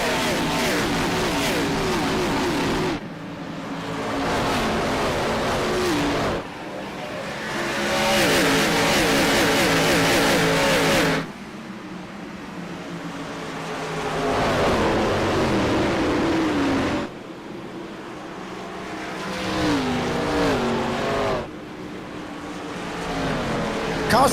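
IROC race cars on a restart at Richmond Raceway, engines roaring loudly as the pack accelerates and passes, with rising and falling waves of revving over roughly twenty seconds.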